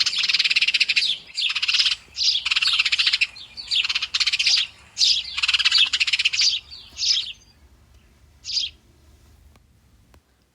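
A house sparrow in a backyard gives bursts of shrill, repetitive chirping, several loud close-up volleys in the first seven seconds, then a lone short burst before falling quiet over a low background hum.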